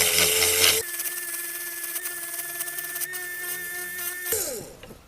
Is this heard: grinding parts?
yes